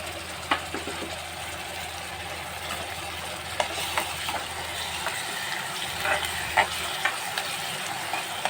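Ginger garlic paste being stirred into fried onions in a pan for a spicy dry prawn dish, a steady sizzle with occasional soft scrapes of the spoon, close and moderately loud, no talking.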